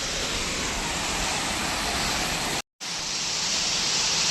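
Kadali Dahara waterfall at Karanjia: dense, steady broadband roar of falling water, loud and continuous, with a brief cut to silence partway through before the rush resumes.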